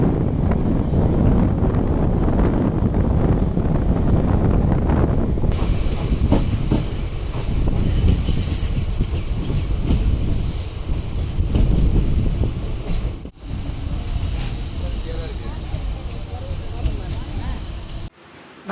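Villupuram–Chennai Beach MEMU passenger train running, with loud steady rumble of wheels on rails, rattling carriage and wind noise from inside the coach, occasional squeal, sustained throughout.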